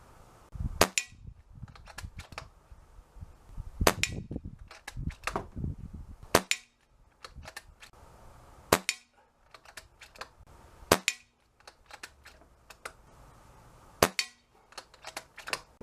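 Rifle test shots fired at a shooting range, sharp cracks spaced irregularly through the stretch, some close together, others seconds apart, with quieter mechanical clicks and handling noise between them.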